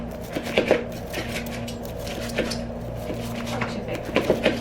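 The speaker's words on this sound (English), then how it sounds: "Now I am going to chop this a little bit extra." A knife chops salad on a board in a home kitchen with a few quick taps in short clusters, close but fairly soft. A steady low hum runs underneath.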